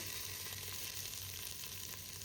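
Onion hits hot oil with bay leaf, cinnamon and cloves while cooking for a naati chicken biryani, giving a close, continuous crackling sizzle.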